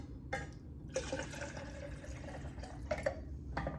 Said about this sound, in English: I'm gonna pour probably half of this into this water bottle.